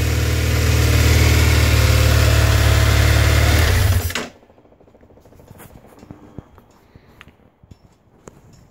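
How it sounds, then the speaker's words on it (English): A 2009 BMW F800 ST motorcycle engine idles loudly with a steady rumble for about four seconds, then cuts off, leaving quiet ticks and small clanks. "bike is purring. She's sounding really, really good."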